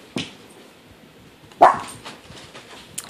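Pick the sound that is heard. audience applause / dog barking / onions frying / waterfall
dog barking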